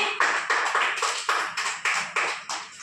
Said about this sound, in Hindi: ताली बजाओ कहानी के लिए